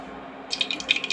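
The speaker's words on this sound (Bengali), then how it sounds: "এখন তেল দিয়ে দিব।" Oil is poured into a hot wok over a faint steady background. Sharp little crackles and spits start partway through and keep popping unevenly, close up.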